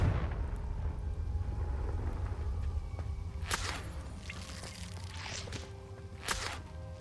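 Confringo blasting spell striking in Hogwarts Legacy, a couple of sharp bright cracks and bursts over a constant low rumbling background, with scattered smaller impacts between them.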